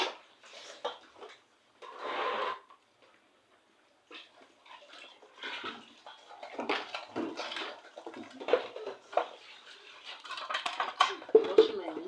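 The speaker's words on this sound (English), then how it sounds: "At this point, I'm washing my meat." Meat for a swallow meal is rinsed in water, with intermittent splashing and sloshing in a basin plus occasional clinks of a bowl, moderately close and broken by pauses.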